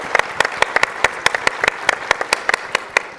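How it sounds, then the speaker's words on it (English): A round of applause from a modest audience at an advocacy day of action: a sparse, distinct patter of individual claps with sharp, separate hits rather than a dense roar, close and fairly loud. "let's give him a round of applause for what he's done"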